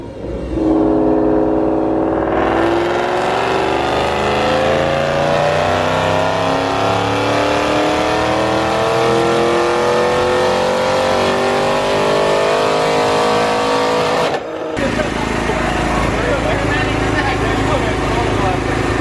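A Ford Mustang GT500 engine revs on a dyno in one long, loud pull that climbs steadily in pitch for about twelve seconds, then cuts off sharply and settles into a rough, rumbling idle.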